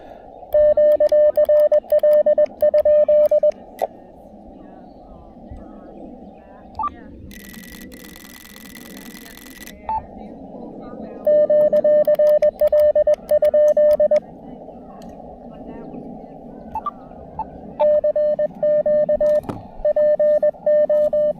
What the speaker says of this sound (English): I'm an amateur radio operator, and I'm using Morse code